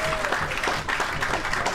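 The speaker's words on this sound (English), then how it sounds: "A nice round of applause for Mr." A comedy club audience at the Friars Club applauds steadily, a dense patter of clapping that holds for the whole moment at a moderate level.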